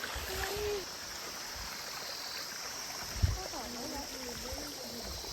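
A stream flows beside a trail in the Bhojpur hills, making a faint, even rush of water. A couple of brief voices are heard faintly over it.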